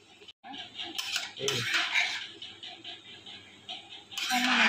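A spoon scrapes and clinks against a pan while chicken fried rice is stirred, close and busy with bright metallic knocks, and a faint voice sits underneath.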